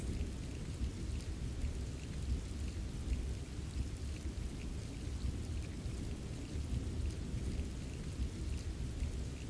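Steady rain pattering against windows, with low rolling thunder rumbling underneath, a dense continuous wash of sound at even loudness throughout.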